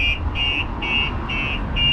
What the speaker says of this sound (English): the alarm will go off